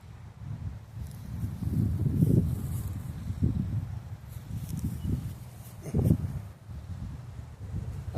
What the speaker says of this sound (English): Bastard wind is being a bastard.